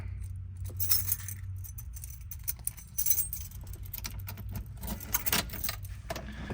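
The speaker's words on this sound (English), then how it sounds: "I'm gonna pull the key out here" A car key jingles as it is pulled from the ignition of a 1969 Chevrolet Camaro Z/28, with soft metallic clinks and rattles close by over a low steady rumble.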